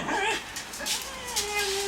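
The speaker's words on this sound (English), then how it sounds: "Oh, that's a lovely howl." A dog howls and whimpers in rising, wavering tones close by, with brief yips mixed in, while a person speaks over it now and then.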